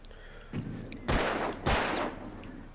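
Gunfire during shooting practice in the video game Alan Wake: three sharp shots, each with a booming tail, spaced about half a second apart, close and loud with no talking.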